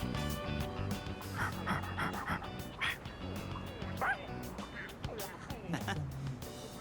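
A dog in the video game Persona 3 Reload yips and barks in short bursts and pants between them, fairly quiet, over a continuous game music backdrop.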